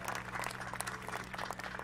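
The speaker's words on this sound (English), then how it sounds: "Give him a nice round of applause up there." An audience claps for a soloist at an outdoor summer big band concert, a steady, moderately distant wash of applause that holds evenly for a couple of seconds.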